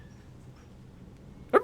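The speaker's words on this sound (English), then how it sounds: "That was the most innocent little bark." A dog gives one short, innocent little bark at the very end, close by, after near-silence in a quiet home podcast recording room.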